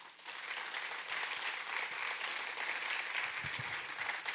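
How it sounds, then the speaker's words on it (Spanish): Applause from a church congregation, a steady broadband wash of many hands clapping that holds evenly at moderate loudness throughout. "Un aplauso para Él"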